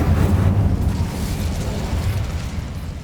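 Incendio fire spell cast in Hogwarts Legacy, a deep rumbling burst of flame that roars loudly at first and then settles into a continuous crackling, whooshing fire sound.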